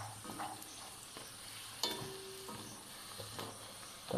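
Chicken frying in a pan, a steady low crackle with occasional stirring clinks and scrapes, a few brief louder knocks, no talking.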